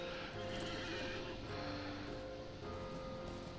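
Horse in the Lord of the Rings Online game giving a clear whinny, with faint hoof clip-clops, heard alone and fairly quiet.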